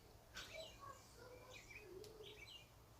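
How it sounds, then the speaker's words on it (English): Robin singing from a fence outdoors, a series of faint, distant chirps and warbled phrases repeating at irregular intervals over soft background noise. "You hear that bird? It's a robin."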